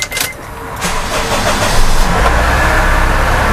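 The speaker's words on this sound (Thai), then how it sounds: "เดี๋ยวฟังเสียงเครื่องยนต์นะครับ" A petrol Honda CR-V engine cranks briefly, catches and settles into a loud, steady idle rumble close by.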